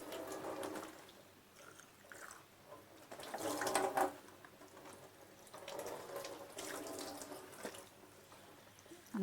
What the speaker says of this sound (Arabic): انا بشطفها اهي تحت الحنفية.